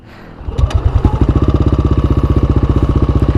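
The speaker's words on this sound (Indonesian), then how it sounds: "kalau kalian pengen tahu suara Vario di Aerox tuh kayak gimana" A Yamaha Aerox 155 scooter fitted with Vario parts starts up and settles into a smooth, rapid, even idle pulse, close and loud, with no talking.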